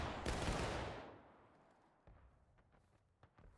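A musket volley fired by a line of infantry in the Civil War battle game War of Rights, set at Antietam: one loud broadband crash that rolls and decays over about a second, followed by a few faint scattered shots.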